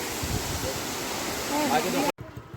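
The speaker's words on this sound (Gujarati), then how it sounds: "ઉપરથી ધોધ આવી રહ્યો છે" Steady broadband rush of a waterfall on Osam hill near Patanvav, close and continuous, with a brief dropout near the end before the roar resumes more faintly.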